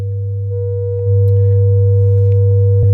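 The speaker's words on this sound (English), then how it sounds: "this is how the 2 sine waves with the decapitator on sound" Harsh, buzzy sustained tones from two sine waves distorted by a Decapitator saturation plugin, gritty and saturated, holding steady and growing slightly louder partway through, with no voices.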